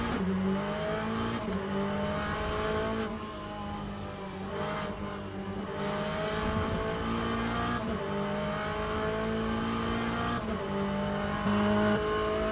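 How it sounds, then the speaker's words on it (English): Corvette Z06 GT3 race car engine in the sim racing game Le Mans Ultimate at Interlagos, a loud steady roar with repeated upshifts and rising revs throughout, no talk. "No, this is the Corvette Z06."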